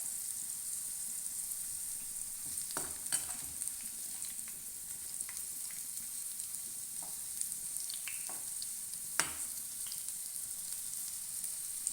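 Okra, ladies finger, shallow fries in a pan with a modest amount of oil, giving a constant soft sizzle and crackle with a few louder pops and spits scattered through it. No voices are heard.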